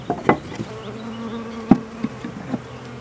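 Honeybees from a package being installed into a top bar hive: a steady, close buzzing hum of many bees, punctuated by several sharp knocks and taps of wooden bars.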